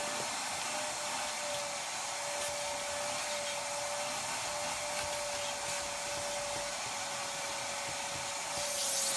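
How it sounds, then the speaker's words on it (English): A vacuum runs steadily, sucking loose debris out of a carpet before steam cleaning, a continuous close roar with a thin high whine and no voices. "first we're going to vac the bigger chunks out so the steamer can actually get to some of"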